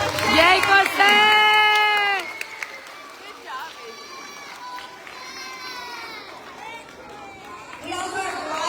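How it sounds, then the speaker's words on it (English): A school assembly audience of children cheers and yells in high excited voices for a student, loud at first and then fading to scattered shouts and murmuring, with a brief rise of cheering at the end. "So let's give Jose Luis a round of applause"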